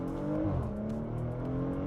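A Porsche Macan accelerates hard outside sport mode. The engine note climbs, dips briefly at a gear change, then rises again in a continuous, strong run with no one speaking.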